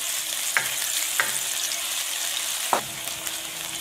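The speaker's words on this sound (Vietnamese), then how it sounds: "Dầu nóng rồi thì em sẽ cho cái gốc hành mà hồi nãy mình băm nhuyễn vô," Minced scallion bases stir-frying in four spoonfuls of hot cooking oil in a pan, a steady close sizzle with a few sharp utensil scrapes and taps against the pan as it is stirred.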